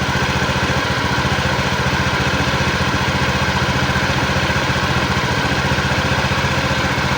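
A fuel-injected Honda Beat scooter engine idles steadily up close, a loud, even putter with a slightly rough, rattling edge and no voices.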